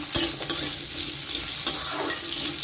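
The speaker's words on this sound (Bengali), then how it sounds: "আলুটাকে দিয়েও আমি খুব ভালো করে একটু ভেজে নেব।" Cut potatoes fry in a pan over a medium gas flame, a close steady sizzle with a few sharp clinks and scrapes of utensils.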